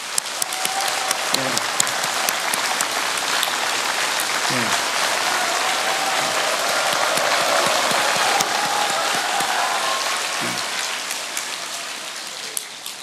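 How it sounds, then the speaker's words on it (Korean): Large crowd applauding at a Buddhist temple celebration of Buddha's Birthday, a loud, dense and sustained clapping that fills the whole stretch, with some voices faintly underneath. "큰 박수로"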